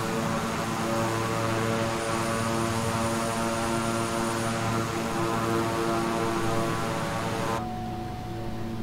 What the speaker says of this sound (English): Sometimes I turn on the 360 or the Xbox controller and the plane suddenly throttles up